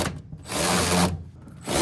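A power tool drives screws to tighten mud flap clamps on a 2020+ Chevrolet Silverado 2500/3500, two close, loud whirring runs separated by a short pause.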